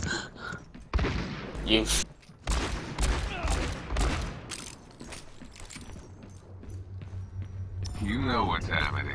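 Bursts of gunfire in an Overwatch match, sharp volleys mixed with clicks and game effects while a player talks over them.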